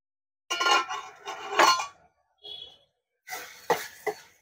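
A ladle scrapes and mashes tomatoes in a pan for egg curry in a few short, separate bursts of clattering metal, with brief silences between them.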